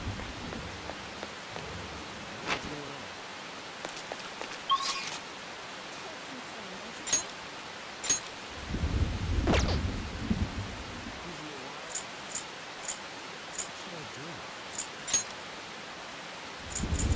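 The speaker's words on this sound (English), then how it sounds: "Heavy rain." Heavy rain hisses steadily throughout in the video game Persona 5 Royal, with a deep rumble of thunder partway through and scattered sharp clicks.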